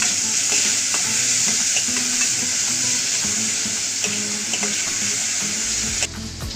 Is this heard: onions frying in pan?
yes